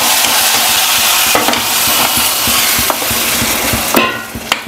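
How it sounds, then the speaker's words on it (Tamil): Onion vadagam and fenugreek seeds sizzle in hot oil for a tempering in a village kitchen, giving a steady close frying hiss broken by several sharp knocks of a utensil against the pan. "இப்போ வந்து வடகம் போட்டு தாளிக்க போகிறேன்."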